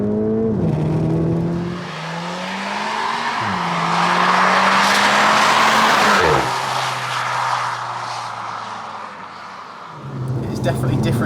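A Volkswagen T-Roc R accelerates hard from inside the cabin, engine note rising steadily through the gears with brief dips at each shift, loud and continuous, with occupants speaking over it.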